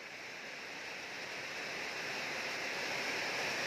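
Steady, dense hiss of rain falling continuously, broad and even like a heavy downpour, with no voices.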